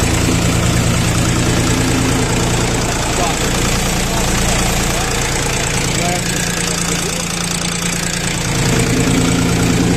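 The engine of a Bulat 244 minitractor runs steadily up close, a loud, continuous knocking diesel rumble that holds the same level throughout, with a voice faintly audible beneath it.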